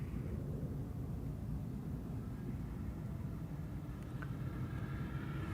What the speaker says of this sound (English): Nice Lufthansa 747 in the old livery.